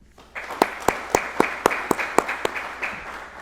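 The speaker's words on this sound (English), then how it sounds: "Ladies and gentlemen, please give the guest of 1163 a round of applause." At a police academy graduation ceremony, a small group claps in a sparse, slightly uneven rhythm of about a dozen distinct claps, fairly quiet and close, with no talk.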